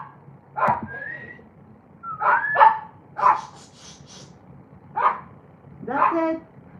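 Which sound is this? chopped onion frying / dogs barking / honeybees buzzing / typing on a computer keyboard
dogs barking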